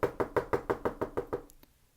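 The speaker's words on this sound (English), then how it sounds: "A sudden rapid tapping at the house's door brought everyone to a standstill." Someone raps rapidly on a house door: eight evenly spaced, fairly close knocks in quick succession, followed by two fainter taps before the sound fades.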